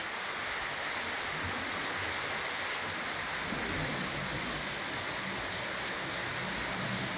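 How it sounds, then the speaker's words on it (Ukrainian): Steady heavy rain pours down continuously, a dense hiss with a low, distant rumble of thunder beneath it. "Оце в нас такий дощ лину, бачите? Гримить."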